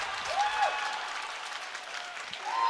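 Applause and cheering from a crowd for a diver at a boys' high school swim and dive meet, Groves Falcons versus Seaholm Maples; a steady, fairly distant roar of clapping with scattered whistles that runs the whole time.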